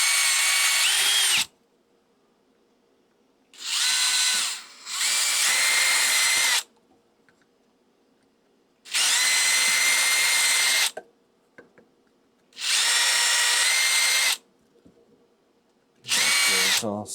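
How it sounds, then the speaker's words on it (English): Power drill enlarging small pilot holes on parts to 4 mm, heard as repeated loud whirring bursts of one to three seconds with short quiet gaps, close up and with no talking. "I like making my holes smaller on parts and then just drilling them out"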